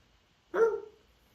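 A single short bark, voiced by a person imitating a dog, sounds once in otherwise quiet surroundings.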